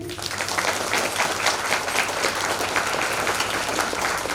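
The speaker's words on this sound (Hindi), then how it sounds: "इस शुभ कार्य के लिए ताली बजा देंगे।" A church congregation at an inauguration and blessing by a bishop breaks into applause, a loud, dense wash of many hands clapping steadily throughout, with a low hum underneath.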